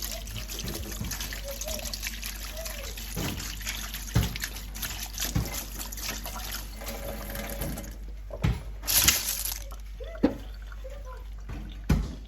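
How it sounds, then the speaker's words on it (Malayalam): Cold tap water runs steadily while boiled clam meat is washed, with close splashes and occasional clinks and knocks from handling, and no voice over it. "അതൊന്ന് കഴുകി തണുത്ത വെള്ളത്തിലൊന്ന് കഴുകി"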